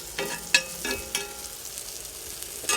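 Cheese and an egg frying in a pan, a steady crackling sizzle with a few louder pops and utensil taps near the start.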